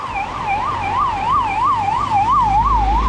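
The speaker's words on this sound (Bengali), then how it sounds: "আমার সামনে দেখতে পাচ্ছেন এখনই বেঁচে গেল অ্যাম্বুলেন্সটি" An ambulance siren wails in a loud, steady rising-and-falling cycle as it passes close by on a Kerala highway, with road traffic rumbling underneath.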